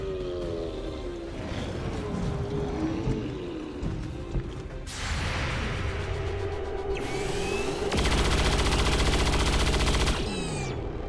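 Overwatch gunfire in XCOM 2 cracks out in layered bursts among whirring mechanical game effects, ending in a loud, sustained volley of rapid shots.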